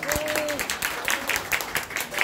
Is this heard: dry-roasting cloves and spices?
no